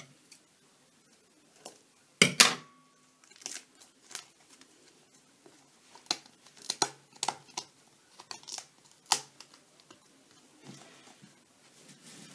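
Quiet, scattered snips and crinkles as scissors cut through plastic packaging, with sharp isolated clicks between pauses.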